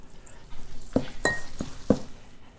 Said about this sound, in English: I'm going to add about 3/4 of a cup of peanut sauce to the noodles to start, and then I want to mix those up.